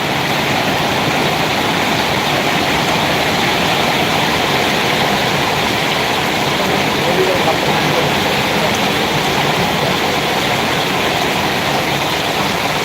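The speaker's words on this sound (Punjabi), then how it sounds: "ਹਾਂ ਬਰਸ ਪੈ ਰਹੀ ਆ" Heavy rain comes down in a constant, dense hiss that is loud and unbroken throughout, with no clear voices rising above it.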